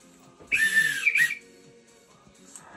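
A referee's whistle sounds for a penalty in a Ligue 1 football match between PSG and Stade Rennais: one long shrill blast followed by a short second blast, loud and piercing over faint crowd noise.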